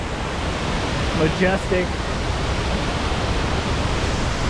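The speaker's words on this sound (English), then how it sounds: "And then boom, you have the waterfall" The Kuang Si waterfall near Luang Prabang, Laos, roars loudly and steadily as a dense, unbroken rush of falling water, with someone briefly speaking under it.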